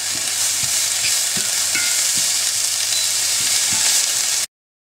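Chopped onion sizzles gently in a frying pan over lowered heat, a steady bright hiss with soft scraping stirs at intervals, close and continuous before cutting off abruptly.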